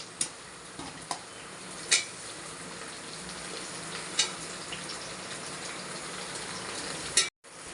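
Tomatoes tip into a hot pan of frying onions while cooking eggplant biryani, setting off a steady broadband sizzle with a few sharp clinks of a utensil against the pan, heard close and without talk.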